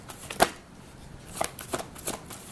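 Oracle cards are shuffled by hand in a few quick riffling bursts, close and fairly soft, with short pauses between each flutter.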